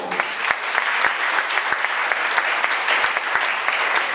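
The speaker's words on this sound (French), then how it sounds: "je vous prie d'applaudir très très fort" An audience in a formal assembly applauds at length, a dense steady roar of many clapping hands with no voices.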